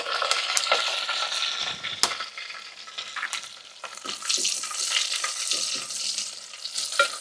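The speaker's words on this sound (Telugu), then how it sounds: "ఎరగడ్డలు అయితే వేగాయి" Onions, garlic, cumin and curry leaves frying in a pan for munaga pappu, a steady close sizzle broken by scraping stirs and a few sharp clicks, with no talking.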